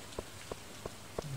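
Rain in the farming game Stardew Valley, a soft steady patter with four evenly spaced brief drip-like taps standing out above a low wash of drops, with no talking.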